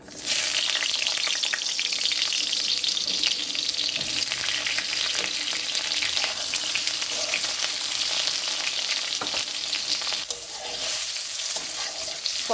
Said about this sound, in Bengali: পটলগুলো সুন্দরভাবে ভাজা হয়ে গেছে, এখন আমি পটলগুলো তুলে নেব।